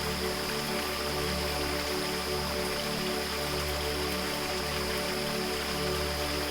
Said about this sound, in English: this breathtaking waterfall tumbles down mossy cliffs like a silver ribbon